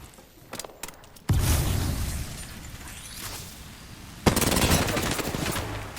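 Apex Legends gunfight in a competitive tournament match, a sudden loud stretch of rapid automatic fire that fades, then a second burst kicks in, close and dense with little talk.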